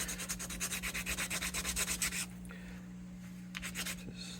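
A strip of old belt sander belt glued to ebony scrubs back and forth against a surface in quick rhythmic rasping strokes for about two seconds. A few scattered scrapes follow over a steady low hum.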